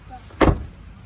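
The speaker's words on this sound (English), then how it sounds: "Did you just shut the door on me?" A single solid thud of a C5 Corvette Z06 door shutting nearby, brief and loud against quiet background.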